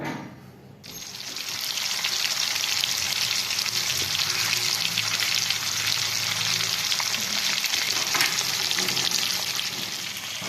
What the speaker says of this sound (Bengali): মাছগুলো ততক্ষণ ভাজা হোক